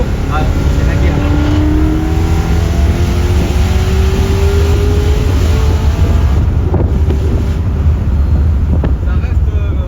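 A supercharged BMW M3 E92 V8 revs hard nearby, its rising engine note climbing and falling under steady wind noise on the microphone.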